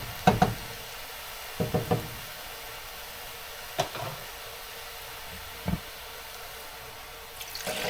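Water poured into a pot of stewing chicken feet in a home kitchen, with a few knocks and clunks of utensils and containers scattered over a faint, steady background of running liquid.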